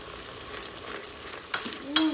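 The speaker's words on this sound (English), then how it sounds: "now I'm going to stir in all the masala powders that I have" Chili, coriander, garam masala and turmeric powders are stirred into chickpea masala frying in a pot, giving a steady soft sizzle with a few scraping strokes near the end, close and fairly quiet.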